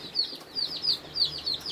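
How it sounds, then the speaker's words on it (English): Newly hatched Black Australorp chicks cheep in thin, high, rapid peeps, about five short calls in quick succession, close and moderately loud over a low background hum. "Surprise, new chicks."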